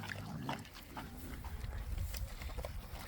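Pigs on a family farm eat eggs and canned fruit, giving faint snuffling grunts and chewing noises at low level with soft rustling, no talk.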